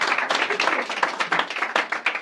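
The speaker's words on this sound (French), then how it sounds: "ça s'applaudit quand même, c'est très beau ça" Comedy show audience clapping for a couple together over thirty years, a lively continuous round of applause at close range.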